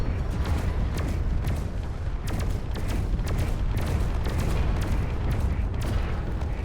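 Coil gun turrets firing in Space Engineers: a dense, relentless barrage of booming shots and sharp cracks over a constant heavy rumble, loud and close, with no pauses.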